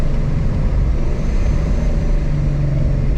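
A 700hp Ford Mustang fitted with a Corsa sport exhaust drones steadily, a loud continuous low engine rumble held at a constant pitch, near and without voices.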